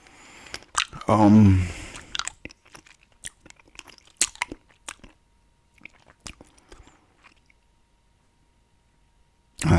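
Hard candy crunched and chewed close to the mic in an ASMR setting, with a dense burst of crunching early on, then scattered sharp bites and clicks spaced out over quiet gaps.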